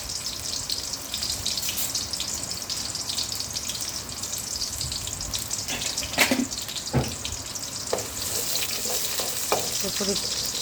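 Onions and green chilies fry in hot oil for a spicy tilapia dish, giving a steady close sizzle with a few louder clinks and stirring knocks partway through.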